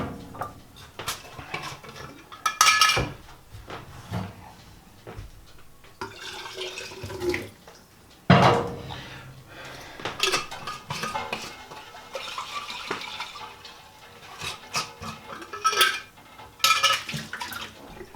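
Dishes and cutlery get washed in a sink: irregular clinks and clatters of plates and silverware mix with bursts of running water and splashing, close and fairly loud, with no talking.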